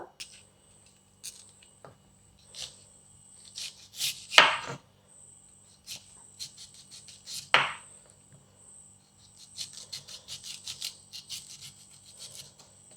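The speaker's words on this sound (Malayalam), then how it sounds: "ഈ മൂന്ന് മാങ്ങയും ചെറുതായിട്ട് കട്ട് ചെയ്തെടുക്കാം" Knife chopping raw mango into small pieces on a board, sharp irregular taps in quick bursts with a couple of louder knocks, close and fairly faint over a quiet background hum.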